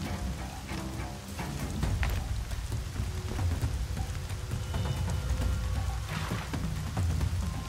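Steady rain falls throughout a Horizon Zero Dawn game scene, a dense, continuous patter with low rumbling underneath and a few sharper splashes standing out, no talking.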